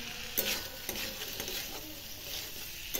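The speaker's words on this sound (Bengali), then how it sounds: "এবার ভাজা আলুগুলো দিয়ে দিলাম" Fried potatoes go into a pan of sizzling oil and raw tomato for a spicy puti fish curry, a fairly quiet sizzle broken by several soft scraping knocks of stirring.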